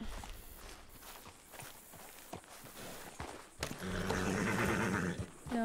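In a video game, a nearby horse gives a loud whinny. Steady hoofbeats and footsteps run underneath, and the neigh rises clearly near the end.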